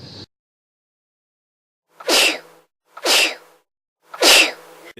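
Three loud, sharp human sneezes sound alone in quiet, each a short explosive burst spaced roughly a second apart, with a brief noise cut off at the very start.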